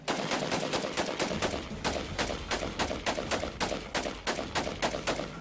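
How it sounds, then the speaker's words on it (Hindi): Rapid bursts of gunfire crack out in a fast, uneven rhythm, loud and continuous, like automatic weapons firing repeatedly. "सीरियाई फौज के जवान उन पर गोलियों की बरसात कर देते हैं।"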